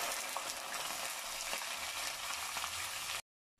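Onion paste from two onions frying in a pan with garam masala for kadhi pakora, a loud dense hiss and sizzle close up that runs steadily, then cuts off abruptly near the end, with no voices.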